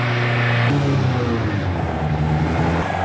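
A Suzuki Hayabusa engine fitted in an MK Indy Sport 200 kart revs hard and close, pitch climbing and dropping through several throttle blips with a steady loud roar throughout.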